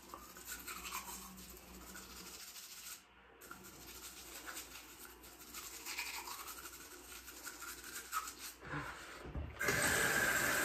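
A toothbrush scrubs teeth in a steady, close, wet rubbing rhythm, briefly pausing midway before continuing, with a louder harsh rush at the very end.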